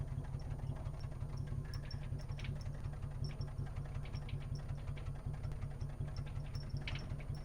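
A Jaguar XK150 engine running steadily, a low rhythmic pulsing rumble that stays constant and fairly faint, with no voices.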